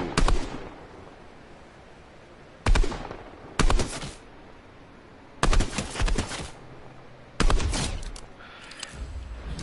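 Gunfire in the Fortnite video game, with several sharp bursts of shots separated by quieter stretches of game ambience, loud and close.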